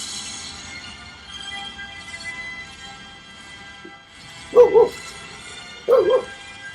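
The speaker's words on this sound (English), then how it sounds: "Daisy's barking at the monkey." Daisy the dog lets out two short, sharp bark bursts a second or so apart, close and clear over a quiet film soundtrack.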